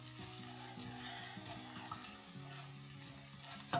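Fried rice cooking in a hot pan, a steady close sizzle with light stirring scrapes throughout, no talking, ending with a brief louder clatter.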